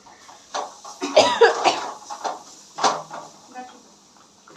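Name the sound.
coughing from pungent biryani masala fumes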